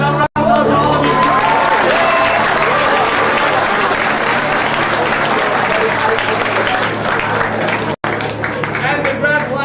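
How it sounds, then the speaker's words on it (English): Audience applause at the close of a high school stage performance of the play Clue, Act II, with dense, loud, sustained clapping and some crowd noise, dipping for two brief moments. "Let's have a round of applause for all of you"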